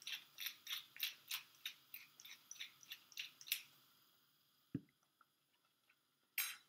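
Salt being ground to season a curried butternut squash soup: a quick run of about a dozen sharp ratcheting grinder clicks, close and crisp. A few faint kitchen knocks follow, then silence.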